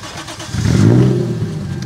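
Lexus SC300 with a 1JZ engine and idle air control valve delete, running on E85, cranks and catches on the first try, swelling into a loud, close rumbling idle with no talk over it.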